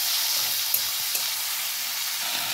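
Prawns fry in hot oil in a pan for a Bengali vegetable curry, giving a continuous, even hiss of sizzling with a couple of faint clicks and no voices.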